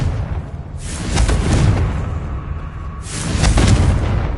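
Two booming fire-blast explosions from the Confringo spell in Hogwarts Legacy, each a loud burst with a rumbling tail, the first near one second and the second near three seconds.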